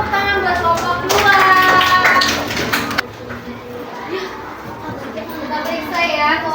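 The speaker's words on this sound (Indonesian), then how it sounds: "Beri tepuk tangan buat kelompok 2." Schoolchildren in a classroom applaud the second group, a burst of brisk clapping for about two seconds that then thins out, followed by quieter room noise and scattered children's voices.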